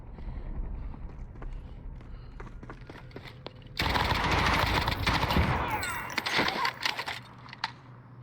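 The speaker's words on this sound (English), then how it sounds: "There's people shooting everywhere." Gunfire in a first-person shooter video game, with scattered shots early, then a long, dense burst of sustained automatic fire over background game noise, tapering into a few isolated shots.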